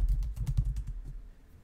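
Rapid keystrokes on a computer keyboard as a website address is typed into Safari's combined search and address bar on macOS, a close burst of clicks that thins out and stops partway through.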